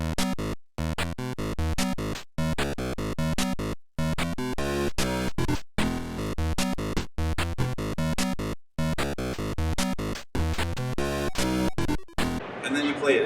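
Algorithmic theme music from the Atari 8-bit game Ballblazer: chippy, synthetic tones in choppy phrases broken by short silent gaps, with a brief noisy burst near the end and no voices.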